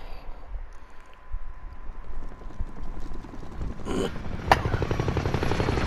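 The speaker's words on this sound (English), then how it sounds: "Who's in the chopper, baby?" Helicopter in a first-person shooter video game, a faint rhythmic rotor chop building under game noise and mechanical clicks, with a sharp impact partway through and the thumping growing louder toward the end.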